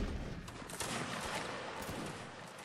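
Crackling musket volley fire from massed line infantry in a multiplayer historical battle game, a dense sustained fusillade of overlapping distant shots rolling on for a few seconds with no talk.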